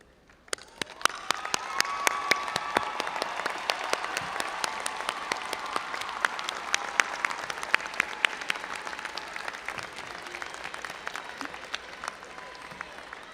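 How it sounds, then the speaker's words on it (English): A large audience at a university commencement ceremony applauds steadily, a dense sustained wash of clapping that swells in the first seconds and holds evenly throughout, with faint crowd murmur beneath. "join me in applauding those who helped you earn your degree"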